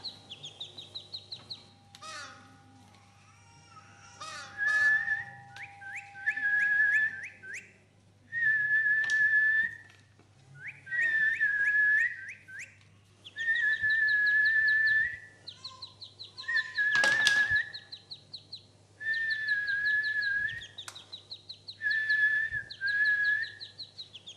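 Clear melodic human whistling in repeated short phrases and sustained tones, fairly close, with a steady low hum and a brief louder noise midway, no talk.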